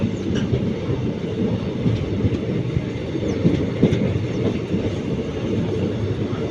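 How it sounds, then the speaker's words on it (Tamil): A train rumbles past close by at the Koodamangalam railway crossing, its heavy wheels clattering steadily on the rails for the whole stretch, loud and continuous. "இது கூடமங்கலம் கிராசிங்கு ட்ரெயின் கிராசிங்கு"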